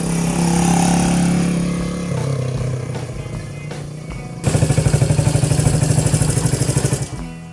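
A 1978 Honda CB125S motorcycle engine running while ridden, a loud buzzing drone that shifts pitch, then a fast throbbing pulse as it revs up before easing off.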